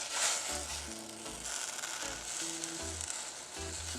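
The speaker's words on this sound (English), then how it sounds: "So we have some boiling water going here, and I'm going to put my bhaji in there to cook for about 5 minutes" Bhaji leaves cook in a pot of boiling water in a Caribbean kitchen, giving a steady, hissing bubble that runs the whole time with low tonal hum pulses underneath.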